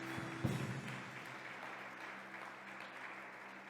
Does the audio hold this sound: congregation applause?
yes